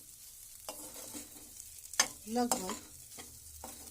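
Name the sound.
dry daliya frying and being stirred on low flame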